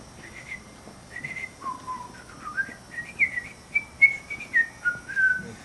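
A person whistles a bright, wandering melody of short sustained notes, getting a little louder toward the end, with no other sounds around it.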